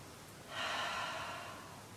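A deep breath drawn in, a single airy inhale lasting about a second, close and fairly soft, rising then slowly fading, with no talking.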